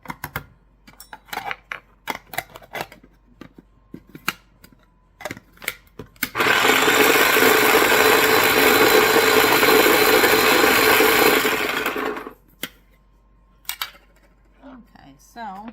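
A kitchen chopper or food processor chopping salmon for salmon patties, a loud continuous whir lasting about six seconds, framed before and after by clicks, knocks and handling sounds.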